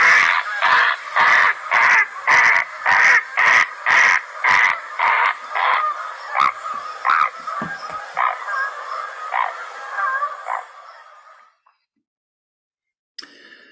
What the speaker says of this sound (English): this is great blue heron, and I'm going to start off by playing that call for you right now